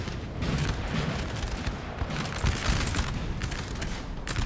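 Musket volleys crackle in a dense, continuous roll of gunfire across a Napoleon Total War battlefield, with heavier booms mixed in; the firefight stays loud and sustained throughout with no pauses.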